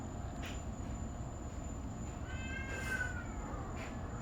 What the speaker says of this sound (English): The cat's in a lot of pain, sounds like.